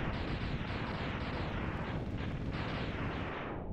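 A sustained, rumbling blast from an explosion in the Mega Man X video game rolls on steadily and fairly faintly, with no pauses for its whole length.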